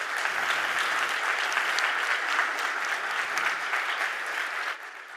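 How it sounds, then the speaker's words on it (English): A conference audience at a legal industry session applauds steadily, a dense, sustained wash of clapping at full strength that thins and drops off near the end. "I wouldn't mind a round of applause for these folks who do the hard lifting"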